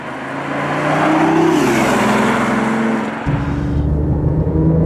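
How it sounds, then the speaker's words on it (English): A 2017 BMW i8's three-cylinder engine, boosted by artificial engine sound, accelerates hard with a loud, rising growl, then a gear shift drops the pitch before it climbs again, heard close from inside the car. "I guess that's not really how a 3-cylinder engine sounds"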